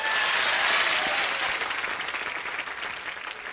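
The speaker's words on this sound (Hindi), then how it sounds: "तालियां।" A burst of studio audience clapping on a comedy talk show, loud at first and slowly thinning out over a few seconds, with no voices over it.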